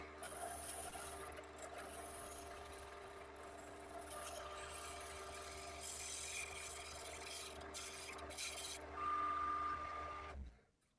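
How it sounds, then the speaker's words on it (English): Steady abrasive rubbing against wood spinning on a lathe, a continuous rasping hum with motor drone underneath, fairly close and even, ending abruptly. "do a little sanding on the inside here now"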